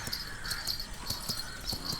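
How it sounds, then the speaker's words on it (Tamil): A horse on a beach at Kozhikode clip-clops with a steady, even rhythm of hoof strikes, moderately close against a low background hum. "கோழிக்கோடு பீச்சில் நம்ம கூட்டுக்காரன் சாப்பிள்னோட குதிரை அப்படி இருக்கு சகாவ"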